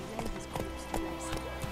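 Hoof clip-clop from Roach, the horse in The Witcher 3, steady trotting beats at moderate distance with a faint voice and game ambience underneath.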